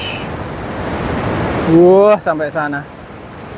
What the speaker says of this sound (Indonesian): Ini ombaknya gede soalnya sini tuh, besar banget.